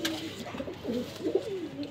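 Flying pigeons from a cross of Mian Nazir's pigeon line cooing close by in a short, soft run of low throaty coos.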